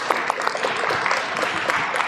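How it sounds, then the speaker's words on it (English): A conference audience applauds its speakers at a Japanese startup event, a steady patter of many hands clapping at moderate distance throughout. "Please give a big round of applause to our speakers"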